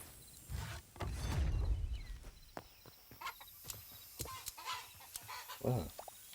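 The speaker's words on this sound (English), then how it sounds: "Chickens." Chickens in the video game Hytale give scattered clucks amid footsteps and clicky game sounds, with a low voice-like rumble early on.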